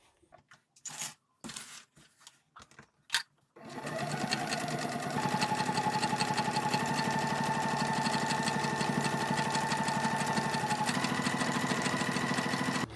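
A sewing machine stitching fabric for a sandwich pouch, going slowly over a thick Velcro section. A few short taps and clicks come first, then the motor starts and runs a steady, rapid, even rattle of stitching, close and loud, for about nine seconds.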